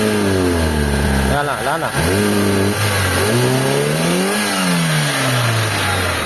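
A Mitsubishi Lancer with a 4G13 engine, low on power, is revved up and down several times, loud and close, with sweeping pitch rises and falls over a steady idle; someone speaks briefly.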